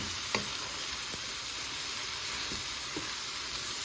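Shredded cabbage cooks down in a pan with a steady, close sizzle and hiss that runs throughout, broken by a few faint clicks of stirring.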